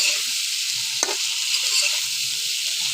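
Eggplant frying in a pan with turmeric and salt, a loud continuous close sizzle with one brief scrape near the middle.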